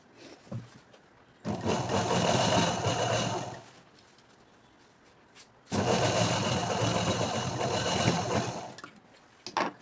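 A sewing machine stitches folded uniform pant fabric over canvas in two steady runs of rapid whirring, each lasting a few seconds, with quiet handling sounds between them.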